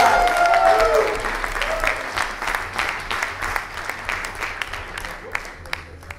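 An audience at a startup demo night applauds, loud clapping with a voice over the opening second, then the clapping thins into scattered claps and fades.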